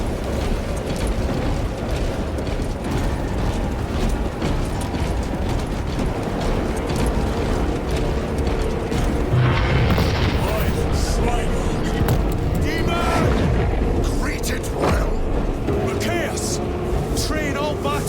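Dense, unbroken roar of massed weapons fire and explosions on a battlefield in the Space Marine 2 video game, loud and sustained throughout, with voices heard through the din.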